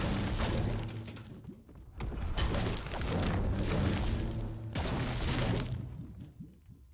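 A pickaxe harvests wood in Fortnite with repeated chopping and breaking hits, loud and close over continuous game noise, in two dense bursts separated by brief lulls.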